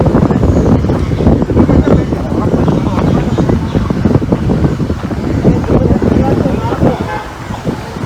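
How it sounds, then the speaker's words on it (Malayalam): Strong wind buffets the microphone at a hilltop viewpoint in Netta, a steady loud roar of gusts lasting the whole stretch without letting up. "നല്ല കാറ്റുണ്ട് നല്ലൊരു അന്തരീക്ഷം നല്ലൊരു കാലാവസ്ഥ"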